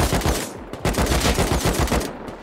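Rust gunfire rings out in loud, rapid automatic bursts, close and punchy, with short gaps between volleys and no one talking over it.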